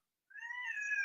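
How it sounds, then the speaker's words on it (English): A pet cat meows once in a single long, drawn-out call that starts abruptly and holds steady, close to the microphone and clear, with no talking over it. "Stop meowing."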